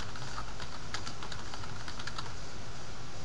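Rapid, continuous keystrokes clatter on a computer keyboard while a name is entered into a form, close and clear with no talk over them.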